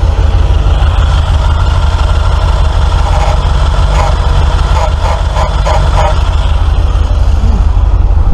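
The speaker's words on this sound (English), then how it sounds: "if I put the clutch in, there's a really nasty noise" A Suzuki FL125 engine idling loud and close, a steady low rumble with a harsh rattling clatter from the clutch side coming in for a few seconds midway.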